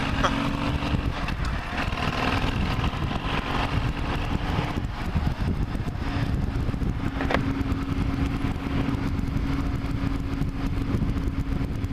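Motorcycle ridden on the road in a group demo ride, a steady engine drone mixed with heavy wind buffeting across the whole stretch.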